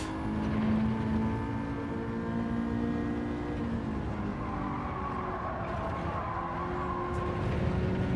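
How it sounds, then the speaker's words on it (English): Ford Sierra Cosworth racing in the Gran Turismo 7 video game, a steady engine drone with shifting pitch and tire squeal underneath, moderately quiet and continuous throughout. "Can you feel the understeer this morning in this Sierra Cosworth?"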